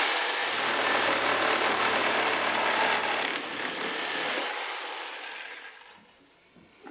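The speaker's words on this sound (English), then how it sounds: "It's like a sawzall kind of, reciprocating saw" A reciprocating saw cutting through iron stair spindles, a loud, close, buzzing mechanical rasp that holds steady before tapering off as the cut finishes, with no talking.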